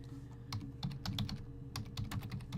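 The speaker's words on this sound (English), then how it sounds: "You're going to hear double typey because my keyboard's noisy too." Clattering keystrokes on a noisy computer keyboard, irregular clusters of sharp clicks close to the mic over a low steady hum.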